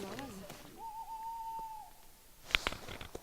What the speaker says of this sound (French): Mais on entend, c'est la chouette hulotte, celle-là.